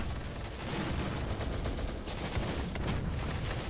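Mortars firing on a building in the Oriental Conflict mod of the Warfare strategy game, a continuous clatter of rapid gunfire and booming shots layered into a loud, steady barrage.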